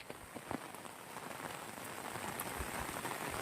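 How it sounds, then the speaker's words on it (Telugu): Heavy rain pours steadily onto a rooftop, a dense continuous hiss with scattered sharper drops, fairly distant and building slightly louder toward the end, with no talking. "చాలా పెద్ద వర్షం పడుతుంది"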